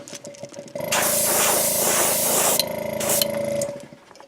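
Createx transparent bright yellow paint sprayed from an airbrush onto a jerkbait lure, a steady close hiss lasting about three seconds with a brief break near the end, over a faint background hum.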